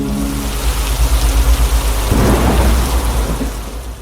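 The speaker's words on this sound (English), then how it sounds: "One day, a severe storm raged through the forest." Severe thunderstorm raging over a forest, with dense, heavy rain and deep rolling thunder that swells midway, loud and continuous throughout.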